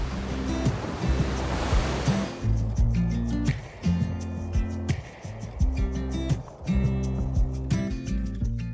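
Surf on a Fiji island shore rolls in repeatedly, each wave rising to a loud crash and washing back in steady cycles, close and continuous with no voices.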